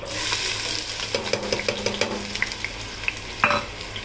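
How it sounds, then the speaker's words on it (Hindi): Finely chopped onions are sautéed in hot oil for Goan chicken curry, a loud close sizzle with rhythmic scraping stirs of a spoon against the pan and a sharp metallic clack near the end. "अब इसको अच्छे से थोड़ा सा पहले सॉटे कर लेते हैं"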